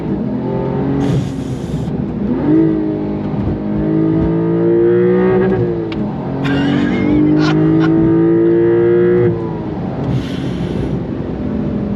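A 2022 Porsche 911 GTS engine accelerating hard, rising revs with gear changes heard up close and loud, engine pitch climbing and dropping in several pulls.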